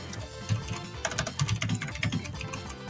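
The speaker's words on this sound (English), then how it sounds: "Oh, you are typing furiously." Fast, furious typing on a computer keyboard, with dense bursts of close, clattering key clicks that come in uneven flurries with no talk.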